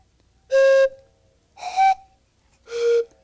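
A carved block-of-wood whistle imitating a train whistle gives three separate chord-like blasts, each lasting about half a second, loud and close, with brief silences between.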